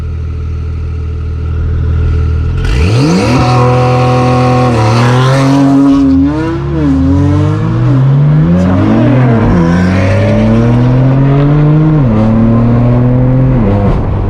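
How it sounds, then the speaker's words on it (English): A Porsche 992 Carrera Cup race car engine fires up and revs hard, then launches away with a loud, rising roar punctuated by sharp gear shifts, close and dominant throughout. "So he's about to launch the 992 Carrera Cup."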